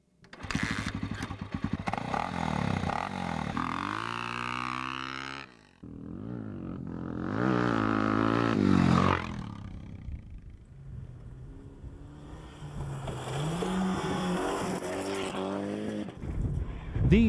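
Off-road vehicles drive along desert trails, their engines revving and roaring in loud surges, rising and falling as they pass nearby, with a brief lull partway through.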